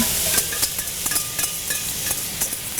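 Beef and broccoli stir fry with sauce crackles in a hot pan as it is stirred, with sharp spoon clacks and scrapes repeating roughly every half second over a bright, continuous sizzle.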